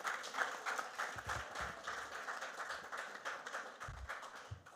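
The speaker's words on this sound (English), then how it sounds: "Let's give them a round of applause." Applause from the audience at a school board meeting, made up of many scattered hands clapping quite faintly and steadily. A few low thumps and bumps break through, and no one speaks.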